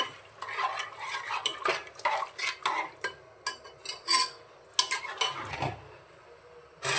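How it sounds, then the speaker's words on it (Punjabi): A spoon scrapes and clinks against a pressure cooker while black chickpea curry is stirred, giving a run of uneven metallic taps and scrapes, close and fairly quiet, with no talking. "ਹੁਣ ਆਪਾਂ ਸਬਜ਼ੀ ਨੂੰ ਚੰਗੀ ਤਰ੍ਹਾਂ ਮਿਕਸ ਕਰ ਲਿਆ ਜੀ"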